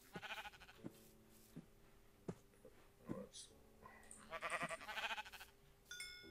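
Sheep in Minecraft, played with the Hexxit modpack, bleat several times in short repeated calls, alongside scattered game sounds and clicks at moderate level.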